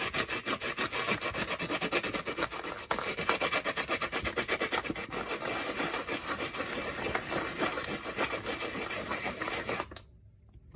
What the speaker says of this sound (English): Now here's my salt, and let's give it a rub off.